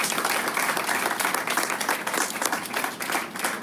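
An audience breaks into sustained applause, a dense wash of many hands clapping steadily at a moderate distance, with little else audible.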